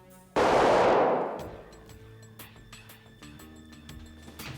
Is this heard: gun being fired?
yes